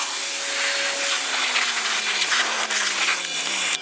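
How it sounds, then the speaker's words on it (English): Enzo Chemicals tire cleaner sprayed from a spray bottle onto car tires, a continuous loud close hiss of mist with slight pulsing, running the whole time with no one talking. "We're just gonna throw on the spray bottle top, wash the tires, each tire"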